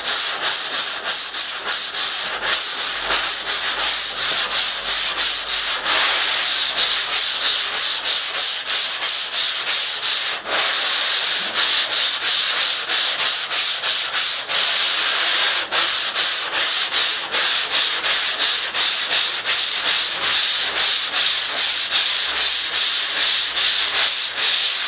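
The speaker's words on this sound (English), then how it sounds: "we'll change over to a smaller pad. Right, so this pad here, it's much softer" A soft gauze pad, not sandpaper, rubbed over a surfboard being shaped, making a loud, steady rhythmic scrubbing of rapid back-and-forth passes that runs without pause and without talk.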